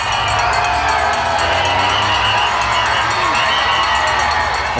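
A roadside crowd cheers and shouts continuously as the main pack of Tour of Britain cyclists passes, with children's voices among them. The noise is loud and sustained for the whole stretch and does not rise and fall.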